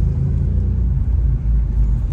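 Car engine and exhaust rumbling steadily in sport mode on a car with a Stage 2 tune, a deep continuous low drone close by with no talk.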